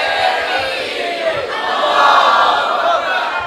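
A large crowd at a religious gathering chants the Allahu Akbar slogan in unison, producing a loud, sustained roar of many voices that swells slightly midway.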